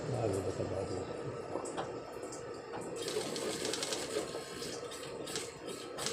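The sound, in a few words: sewing machine stitching a bag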